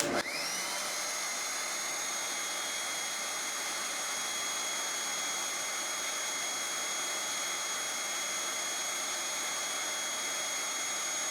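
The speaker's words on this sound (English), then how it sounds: "The last thing we're going to power on is this DC 12 volt carport charging mattress pump." A DC 12 volt car-port mattress pump running from a portable power station: a loud, steady high-pitched electric whir that spins up at the start and holds unchanged, close and alone.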